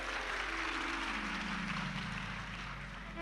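A live audience at a Hindi devotional talk claps together in a dense, sustained roar of applause that fills the room and fades slightly toward the end.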